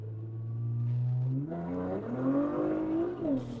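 A Nissan GT-R sports car accelerates hard from inside the cabin. The engine note holds low, then climbs in pitch through a rising rev, dips briefly and climbs again, loud and close.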